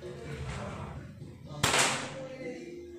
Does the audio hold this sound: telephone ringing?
no